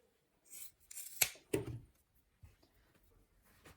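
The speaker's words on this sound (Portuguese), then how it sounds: "então eu vou cortar essa ponta aqui" Scissors cut the fabric end while a backpack is being sewn: a few quick close snips and rustling cloth, moderately quiet, with soft handling sounds after and no talking.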